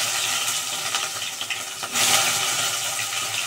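Bay leaf and white cumin dropped into hot oil in a wok, a steady sizzle that surges into a louder, brighter hiss partway through and then holds; no talking.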